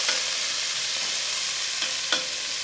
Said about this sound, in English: hear that nice sizzle. Oh yeah, that's just the wine kind of cooking off there.